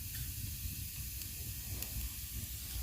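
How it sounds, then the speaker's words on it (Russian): Wet firewood hisses in a home fireplace, a faint, continuous steamy hiss with soft low crackling that stays even throughout, with no voices. "Шипит, дрова сырые шипят."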